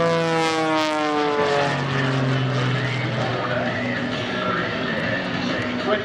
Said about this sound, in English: With the kind of horsepower he has in his airplane, it allows him to do some great vertical maneuvers.